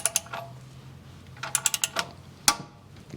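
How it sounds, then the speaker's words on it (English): Ratchet wrench tightening a Toyota RAV4 Prime oil filter, bursts of rapid close clicks separated by short pauses, ending with a sharp clack. "So we'll go ahead and get that torqued down."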